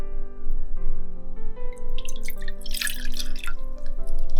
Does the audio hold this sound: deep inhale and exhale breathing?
no